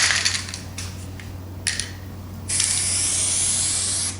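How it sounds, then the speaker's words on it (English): Glue is sprayed from a can onto the exposed strip of paper for Japanese printmaking: several short hissing bursts, then one longer continuous spray, close and fairly loud with no talk. "Spray the exposed part."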